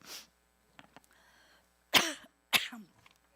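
Two sharp, close coughs about half a second apart follow a few faint clicks and a soft breath.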